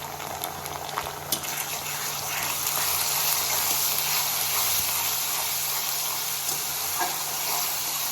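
Onion, ginger, garlic and turmeric frying together in a pan for a soybean curry, giving a continuous close hiss of sizzling oil that stays even throughout with faint stirring beneath.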